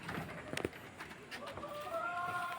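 Chickens cluck and call faintly at a distance over a steady outdoor hiss, with a few short bursts early on and a drawn-out call near the end.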